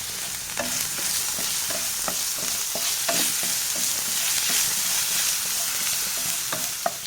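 Green chillies sautéing in a pan for soya chunks 65, a continuous close sizzle with regular scraping taps of a spatula, no one speaking.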